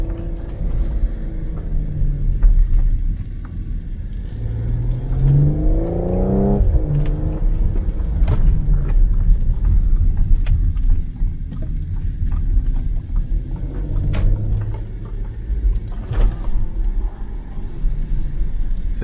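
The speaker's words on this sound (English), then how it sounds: "We'll do a little zipping around downtown in the city" An Audi SQ5 in sport mode drives around downtown city streets, with a steady engine rumble and whirring road noise, a couple of brief revving rises as it accelerates between spots.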